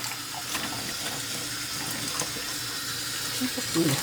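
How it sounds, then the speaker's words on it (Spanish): Water from a tap pours steadily into a pot of precooked lasagna, a continuous close splashing and running hiss with no talk over it. "Y ahí le vamos a echar agüita."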